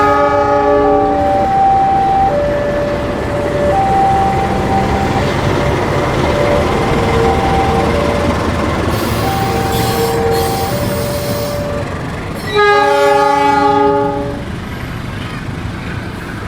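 A locomotive coupled to a train rolls past with a loud, drawn-out horn sounding in several long blasts, wheels rumbling and squealing throughout and a final horn burst near the end, close and dominant.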